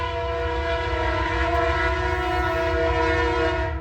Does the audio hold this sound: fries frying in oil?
no